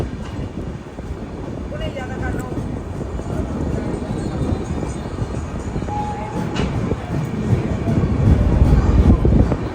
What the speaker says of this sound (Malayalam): ട്രെയിൻ ഇപ്പം മധുര ജംഗ്ഷനിലേക്ക് എത്തിക്കൊണ്ടിരിക്കുകയാണ്.